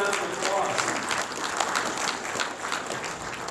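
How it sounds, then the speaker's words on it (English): Sustained applause from an audience at a fundraising remarks event, steady and fairly loud throughout with dense clapping and no gaps. "applause"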